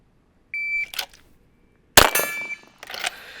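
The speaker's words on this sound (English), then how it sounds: "you're firing on the second beep, you start your draw on the first beep" Shot timer beeping for a drawing drill: a short electronic beep, then a loud gunshot-like burst about 1.4 seconds later with a second tone ringing through it, followed by another sharp report.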